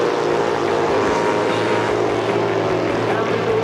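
A BSA racing motorcycle at an AHRMA vintage race meeting in Peoria, engine roaring loud and close with a steady throbbing drone, other bikes blended in behind it.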